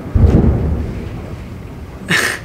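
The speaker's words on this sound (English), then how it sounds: "We just got rain and thunder." A deep rumble of thunder rolls in under a wash of rain in Bali on Nyepi Day, followed by a short burst of hissy noise near the end.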